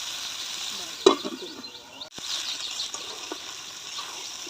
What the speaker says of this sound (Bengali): এবারে সামান্য নেড়ে ছেড়ে দিলাম মাংস একটু ভালোভাবে কষালে মাংস টেস্ট বেশি সুন্দর হয়